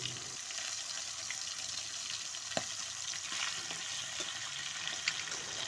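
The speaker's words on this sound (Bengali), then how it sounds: "সেই মাছের মাথাটা একটু মানে ভেজে রেখে দেবো মাছের মাথাটা" A fish head fries in a pan, a steady soft sizzle with faint crackles and an occasional small clink, close but quiet.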